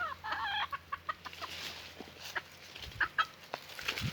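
Ispenç Five-Finger Gülibik chicks and hens on a farm cluck in short, scattered bursts, some near and some farther off, quiet overall with a rooster-like call near the start.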